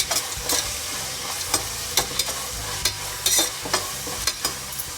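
Cashews frying in a pan make a steady sizzle throughout, broken by regular sharp scrapes and stirring knocks about every half second.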